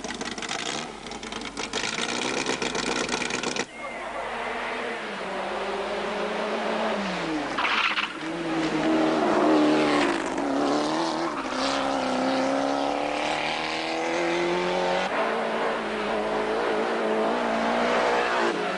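Homemade Romanian race cars from 1990, fitted with 1600 cc Lada or Renault engines and hand-built bodywork, roar steadily and loudly, their engines revving and rising and falling in pitch throughout.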